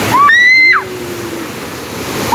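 Water pours continuously at the Namaste Waterfall in Bhedetar, Dhankuta, heard as a steady broadband rush, with a brief high whistling tone near the start.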